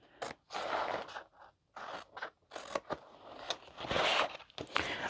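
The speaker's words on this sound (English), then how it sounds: "I do have good scissors over here." Sharp scissors snip and crunch through fabric during sewing, giving a run of quick, close cutting strokes with brief pauses between them and no speech.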